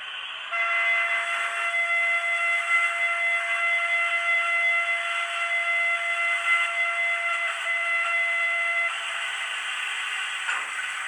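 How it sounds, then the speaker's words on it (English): A steady special steam whistle from an OO gauge model locomotive's DCC sound system, with a distinctive chord-like tone, sounds continuously for about eight seconds, loud and unbroken, before stopping. "5 is special whistle."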